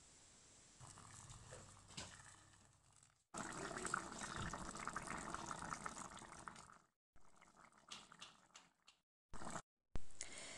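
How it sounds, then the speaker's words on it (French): Boiling water is poured from a kettle over fresh tomatoes in a home kitchen, a steady close liquid rush of several seconds, broken by brief pauses and ending in short splashes. "Je verse un peu d'eau bouillante dessus"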